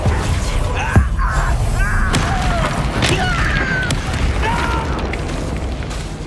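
Confringo spell blasts in Hogwarts Legacy, several loud booming explosions and sharp pops among combat noise, with a voice speaking over them.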